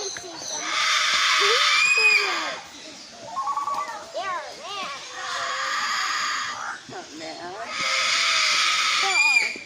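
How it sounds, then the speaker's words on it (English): Macaws at Parrot Mountain let out loud, harsh, drawn-out screeches in repeated bursts, with quieter squawks and chatter between them. "Here's the macaws over here."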